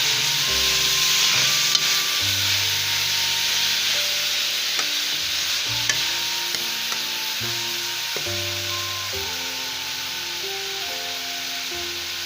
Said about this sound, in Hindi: गोल्डन फ्राई करूँगी इनको